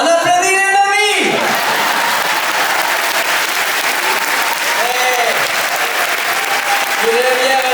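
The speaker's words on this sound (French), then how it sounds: "On applaudit les mamies." A theatre audience at a comedy show bursts into loud, sustained applause just after a voice finishes speaking, with the clapping filling the room evenly and a few brief shouts rising from the crowd.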